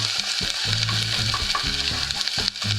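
Garlic frying in a pan for Brazilian rice gives a steady, close hiss and sizzle, with soft clinks and stirring scrapes of a utensil throughout.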